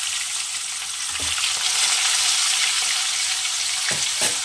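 Aar fish frying in hot oil, a continuous bright sizzle throughout with a few soft knocks of a spatula against the pan.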